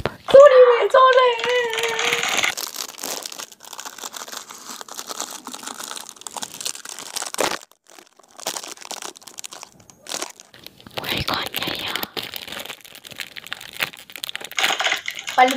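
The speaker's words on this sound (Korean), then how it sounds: "비닐 소리를 한번 들어볼게요." Plastic wrapper around pink meringue cookies crinkles and crackles in dense bursts, close and loud, with a pause midway before the rustling resumes, and a high childlike voice speaking at the start.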